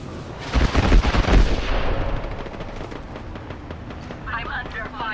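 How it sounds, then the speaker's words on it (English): Rapid bursts of gunfire crackle in a ranked online shooter video game, with a heavy volley up front and scattered shots trailing off. A player talks over the shooting. "They're shooting at me."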